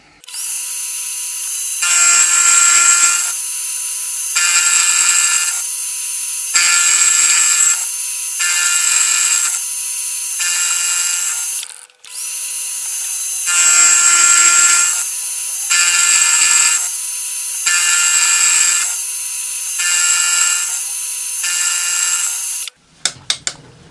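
A milling machine cuts a flute into a gear cutter, a loud whining motor with a high-pitched cutting screech that pulses in regular bursts, pausing briefly midway, then stopping with a few clunks.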